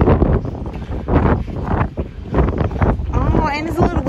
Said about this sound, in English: Oh, and it's a little windy too